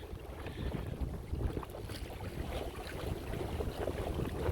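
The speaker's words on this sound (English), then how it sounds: "once we get around the bend and out of this cove, the wind and waves will die down just a little bit" Wind and waves on Prettyboy Reservoir heard from a boat, a continuous rushing, buffeting wind noise with splashing water, fairly quiet and steady.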